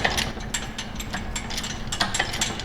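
Ratchet jack clicking repeatedly as it raises the engine of a Nissan Pathfinder undergoing a KA24DE engine swap, with close, steady pawl clicks and metallic mechanism noise and no talk.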